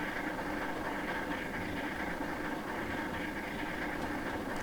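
Washoe Valley War Baby 4-8-4 steam locomotive in Trainz 2019, a steady dense rumble and hiss that stays loud and even throughout as it slowly builds speed, with no voices.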